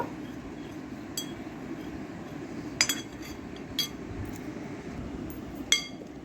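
Spoon mixing paneer in a bowl for a vegetarian curry, sparse bright metallic clinks against the dish over a quiet background, a handful of separate taps.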